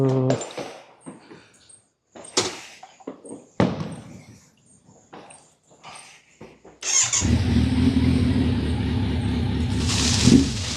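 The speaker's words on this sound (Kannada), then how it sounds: "ಕೋಲ್ಡ್ ಸ್ಟಾರ್ಟ್ ಮಾಡ್ತಾ ಇಲ್ಲ, ಒಂದು 10 ನಿಮಿಷ ಆಗಿದೆ ಅಷ್ಟೇ ಬೈಕ್ ನಿಲ್ಲಿಸಿ." A Kawasaki Z900 stands still on a night ride. Scattered clicks and handling noises come first, then the engine fires and settles into a loud, steady rumble close by.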